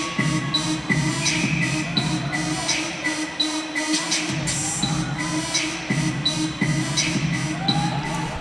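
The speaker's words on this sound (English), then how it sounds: "This game is getting intense, and the crowd's getting loud to respond." Loud crowd of about 2,100 at a minor-league ice hockey game in the Civic Center, Carolina Thunderbirds versus Columbus River Dragons; a dense, steady roar of cheering and murmur with brief surges, filling the whole arena.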